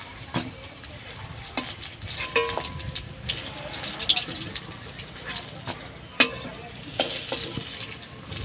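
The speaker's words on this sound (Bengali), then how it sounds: "বেগুনগুলো হালকা করে ভেজে নিয়েছি," Eggplant pieces fry in oil in a pan with a steady sizzle, broken by sharp clatters and scrapes of a utensil turning the slices, while a person talks over the cooking.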